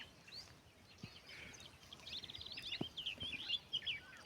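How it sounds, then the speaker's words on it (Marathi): Small birds chirp and twitter in a foggy village morning, quiet and somewhat distant, with rapid trills growing busier toward the end over faint ambient hush and a couple of soft knocks. "पक्ष्यांची किलबिल, पक्ष्यांचा आवाज"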